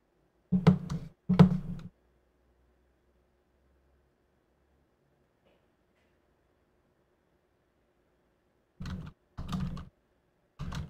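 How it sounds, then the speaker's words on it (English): Computer keyboard typing inside the video game Split Mind, two short clusters of quick close keystrokes at the start and two more near the end, separated by a long stretch of near silence. "I thought I was actually typing stuff for a second."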